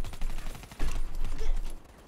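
Rapid gunfire in the Call of Duty Black Ops 3 video game, a burst of close shots with uneven rhythm over about two seconds, played loud with no talk over it.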